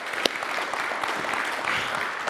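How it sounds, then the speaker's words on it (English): Audience applause at a Bay Area meet-and-greet, a brief, even wash of many hands clapping at moderate distance with no voices on top. "round of applause for everyone"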